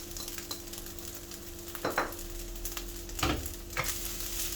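Egg fried rice made from leftovers, with green onions and sesame oil added, is tossed in a pan; a soft constant sizzle runs beneath a few scraping stir strokes against the pan.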